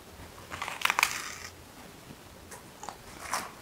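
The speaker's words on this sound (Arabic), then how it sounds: "تخيلوا بقى نلتهم كل هذه الحلوى الدنجولاليه" Giant dalgona honeycomb candy, the record-sized Squid Game sugar candy, snaps and crunches as it is bitten, with a couple of loud close crunches early on and softer bites and crackles following, with no talking.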